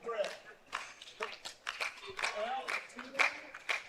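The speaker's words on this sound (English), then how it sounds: "Not enough coordination in the clapping for my liking." Scattered, uneven claps from spectators at a court-side match of the English Open, quick and loosely timed, moderately close, mixed with a few voices talking.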